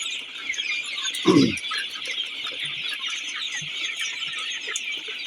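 Sonali chickens in a farm shed give one short, loud cluck over a constant high hiss of flock and shed noise; faint scattered calls follow, with no one speaking.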